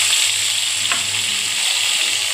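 Chopped tomato and onion fry in a pan with a loud, continuous close sizzle and hiss, steady from start to finish and heard alone without talking.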